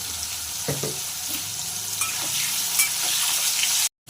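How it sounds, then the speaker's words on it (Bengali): Potatoes fry in hot oil in a pan with salt and turmeric, giving a steady close sizzle with light stirring scrapes. The sound cuts off abruptly at the very end, and no one speaks. "প্রথমে তেলটা গরম হয়ে গেছে, আমি কিছু আলু ভেজে নেব।"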